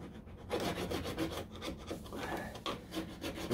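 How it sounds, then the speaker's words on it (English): A hand file rasping a groove into the fiberglass body of a 1969 Corvette C3 door, rough scraping strokes in quick repeated succession, close and fairly quiet with no talking. "I'm using a file. The sandpaper is just too hard to get into there."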